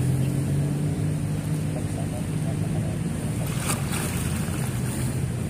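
High-tide sea waves washing along Manila Bay: a steady, continuous roar of surf mixed with wind noise, with no distinct breaks between the waves.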